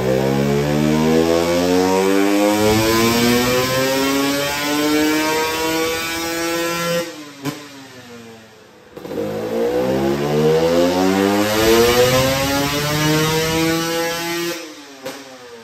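A KTM 300sx two-stroke dirt bike engine on a dyno rises in a long, loud, steady rev sweep, drops off and goes quiet briefly, then climbs again through a second sustained pull with a constant background hum.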